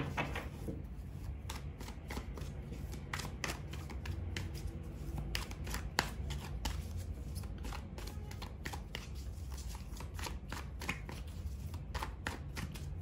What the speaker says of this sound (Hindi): पहले मैं थोड़ा शफल कर लूं